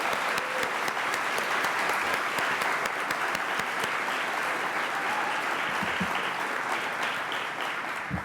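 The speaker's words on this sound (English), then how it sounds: "So please give all of them a round of applause." An audience at a game developers conference applauds steadily, a dense wash of many hands clapping that holds loud and even for the whole stretch, with no talking over it.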